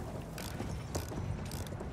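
Hooves of an enemy horse clop steadily on hard ground amid a dense wash of Battlefield 1 game noise and heavy tank rumble, with no talking.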